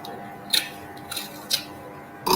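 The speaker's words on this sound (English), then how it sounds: "cut off all this, cut off your seam." Scissors snipping off the fabric seam allowance of a sewn pouch, several short crisp cuts spaced apart at close range in a quiet room.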